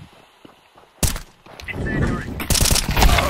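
M4 rifle gunfire in a counter-terrorist shooter video game, sharp rapid bursts after a quiet start, loud and close, with a voice talking over the shots.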